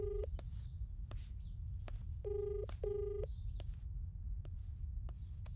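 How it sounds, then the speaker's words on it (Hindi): A phone rings on an outgoing call in a dubbed action film scene, heard as two short ringback bursts among scattered chirps and clicks, fairly faint over low rumble. "भाई रिंग जा रही है।"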